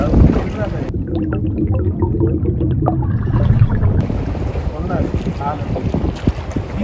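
A boat crosses the sea off Pigeon Island near Nilaveli, Trincomalee, its engine droning steadily under loud wind buffeting the microphone throughout.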